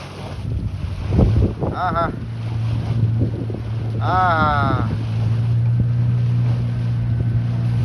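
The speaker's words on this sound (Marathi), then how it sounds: "जरा बोट जास्तच हालायला लागल्या, लाटा मोठ्या आहेत." A boat pitches on big sea waves off Nivati on the Konkan coast, with a steady low engine drone and gusty wind noise throughout. People laugh loudly near the microphone.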